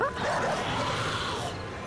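A dog in the survival game 7 Days to Die yips and barks in a quick, close, loud burst, with whimpering and dense game noise filling the rest of the moment.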